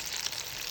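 Potato aloo tikki kebabs frying in hot oil, a steady close sizzle and crackle with no talking.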